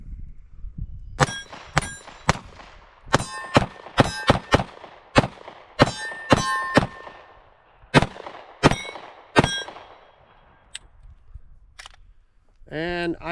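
Daniel Defense H9 pistol firing 124 grain Black Hills ammunition, heard as a long string of sharp, loud, closely spaced shots with ringing metallic reports. A short pause interrupts the string before a few final shots.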